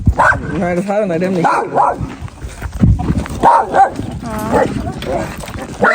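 A dog barks and yips in short bursts among people talking, close and fairly loud, with a few whimpering sounds mixed in.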